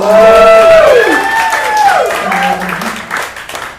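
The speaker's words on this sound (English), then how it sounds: "Clap it up for all the ladies." A comedy club crowd at a stand-up show claps and cheers, with rising and falling whoops and shouts riding over steady applause.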